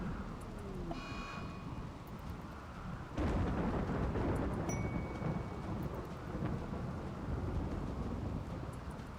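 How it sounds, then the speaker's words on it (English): Rain falls steadily in the Rimworld video game while a thunderstorm rumbles, with a heavy thunder crash arriving about a third of the way in and a low rolling roar continuing under the rain, faint game beeps scattered throughout. "If the damn rain should finally stop"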